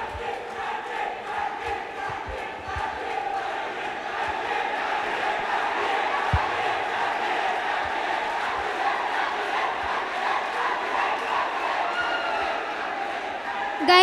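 Student audience at an election debate for a cultural affairs secretary post, cheering and shouting in a steady, dense crowd roar that holds at even loudness throughout.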